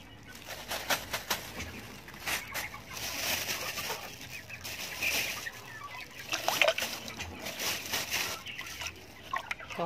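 Local farm chickens cluck in a burst of scattered calls over splashing water and background noise, with louder flurries near the start and again toward the end.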